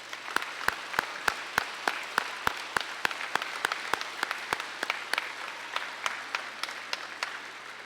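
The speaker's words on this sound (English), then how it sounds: "Please join me in giving them a round of applause." An audience at a high school civil rights program gives a thin round of applause: a sparse series of sharp, distinct claps at a fairly even pace, quiet and spacious with no talking.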